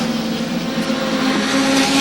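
Stock race cars at Thompson Speedway roar past in a loud, sustained engine drone with steady revving, a tight field of cars at full throttle heard close to the track.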